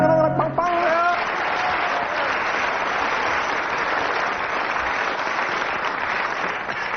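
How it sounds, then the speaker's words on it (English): A studio audience at a radio comedy panel show applauds, a dense, steady wash of clapping that follows a brief bit of sung music at the start and continues evenly. "judging from audience applause, 9 out of 10 for that one"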